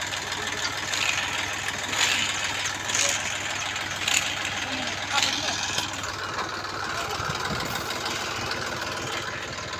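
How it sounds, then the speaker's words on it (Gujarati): A farm tractor engine runs at a steady idle nearby, a continuous low rumble with faint voices heard over it. "અને ટ્રેક્ટર હે"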